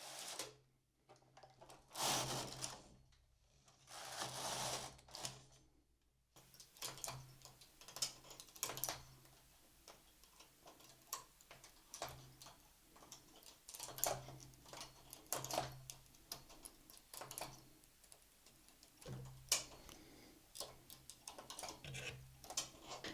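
A knitting machine carriage clatters across the needle bed for two rows, with rapid close clicking and ticking in irregular bursts over a faint background hum.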